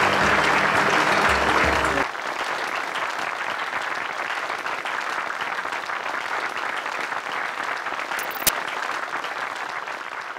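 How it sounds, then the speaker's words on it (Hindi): Loud, steady applause from a large studio audience on a Hindi TV show, sustained throughout with dense clapping and a brief music sting at the start. "जोरदार तालियां प्लीज।"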